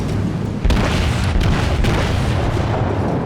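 Battleship guns firing in World of Warships aboard the Tier 3 Kawachi, heavy booming blasts over a loud continuous rumble of naval gunfire, with a sharp report standing out partway through.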